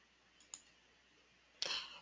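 Two crisp computer mouse clicks, a small soft one and then a sharper one a second later, sounding close in an otherwise quiet room.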